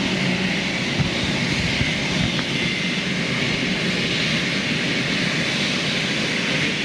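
Big jet engines spinning up at an airfield, a steady broadband roar with a constant whine, sustained and fairly loud throughout with no talk.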